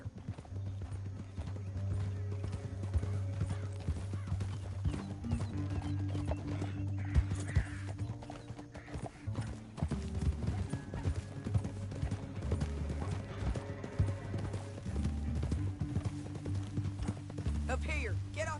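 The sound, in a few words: horse hooves in the video game Red Dead Redemption 2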